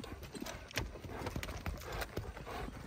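A well-trained horse's hooves clip-clopping on the ground, a quick irregular run of sharp close hoof strikes continuing throughout, with a snort-like sound and faint voices in the background.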